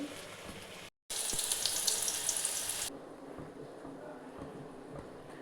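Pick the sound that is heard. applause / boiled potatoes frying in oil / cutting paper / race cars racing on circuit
boiled potatoes frying in oil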